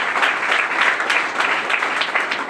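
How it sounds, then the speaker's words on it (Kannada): Audience applause for students at a school speech event, dense continuous clapping from many hands throughout, loud and close with no voices over it. "ಒಂದು ಜೋರಾದ ಚಪ್ಪಾಳೆ ನಿಮ್ಮೆಲ್ಲರಿಗೂ ಕೂಡ"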